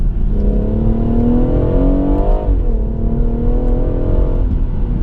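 A BMW M140i accelerating hard, its engine loud and close from inside the cabin, revs rising, briefly dipping at a gear change, then climbing again, with no talking.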